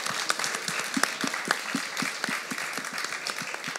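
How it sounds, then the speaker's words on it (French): An audience at a book fair applauds as the Marguerite Bahuet book prize is presented, producing steady, fairly close clapping with sharp individual claps standing out from the crowd at an even rhythm. "Ah oui, allez-y, applaudissez."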